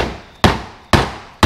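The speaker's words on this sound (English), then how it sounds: "we should be able to grab the hammer and give it a bit of a hit" Three sharp, loud hammer blows on a Classic Mini 1275 rear suspension component in a workshop, spaced about half a second apart, each ringing briefly before the next strike.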